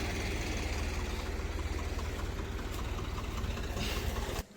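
A heavy diesel tractor engine idles steadily with a low, thumping rumble, close by, cutting off abruptly at the end.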